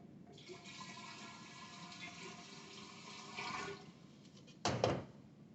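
About five litres of slightly warm water is poured into a container for cleaning beer lines. It makes a continuous rushing, splashing flow that ends in a louder final gush.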